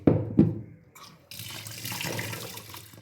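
Rice and mung dal for khichuri are rinsed under a running kitchen tap. A couple of soft clunks come first, then a steady wash of pouring, splashing water for the last couple of seconds.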